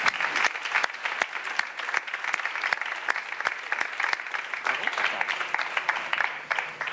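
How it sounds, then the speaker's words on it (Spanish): A room full of people applauds after a talk on biomass energy, a steady wash of many hands clapping at moderate volume with no voices over it. "Un aplauso para todos"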